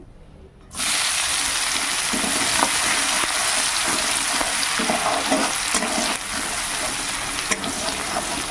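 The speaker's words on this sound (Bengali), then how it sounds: "পেঁয়াজটাকে একটু ভেজে দেবো" Chopped onion fries in a pan of hot oil after dried chilies, cooking for a Bengali rohu fish recipe; a steady, dense sizzle starts abruptly after a brief quiet moment and continues loud and close with small crackles, no talking.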